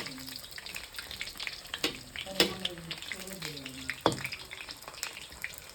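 Meat frying and roasting in a pan in a Nepali hotel kitchen, a steady crackling sizzle with scattered sharper pops, faint clatter and running water nearby.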